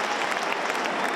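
Football crowd at a Sunderland vs Cardiff City match applauding, a steady dense patter of clapping from many fans heard at a distance with no talk over it.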